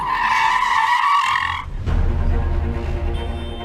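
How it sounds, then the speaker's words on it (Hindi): A loud tonal screech like skidding car brakes sounds for about a second and a half, then gives way to a low rumbling engine. "अचानक तेज गाड़ी की ब्रेक लगने की आवाज आई"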